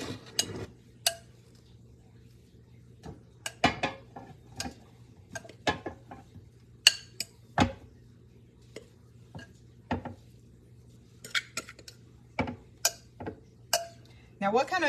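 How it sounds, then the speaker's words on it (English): A meatloaf mixture is pressed into an oiled loaf pan with soft scattered taps, clinks and scrapes at an irregular pace, faint and close against a quiet low hum. "so I'm just going to put this in my loaf pan."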